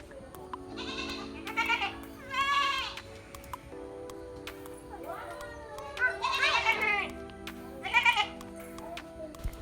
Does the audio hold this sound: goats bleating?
yes